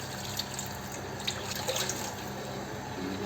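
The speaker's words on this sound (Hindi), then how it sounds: "अब इसमें पानी ऐड करेंगे और 4 से 5 गिलास आप पानी ऐड इसमें कर सकते हो।" Water poured into a pot of pulao rice during cooking, a soft steady trickle and splash with faint drips, close and alone.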